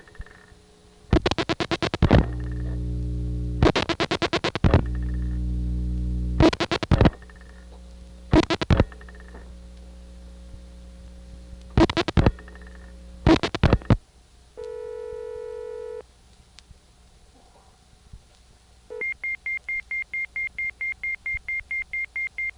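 A step-by-step telephone exchange in Oley, Pennsylvania in 1976, dialed into a paging line, gives several loud bursts of mechanical switch clatter. A steady tone follows, then a rapid run of repeating ringing pulses.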